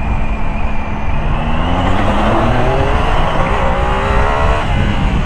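Motorcycle engine revving loud and close while riding on the road, its pitch sweeping upward through rising gear pulls under constant wind and road roar, with no voices.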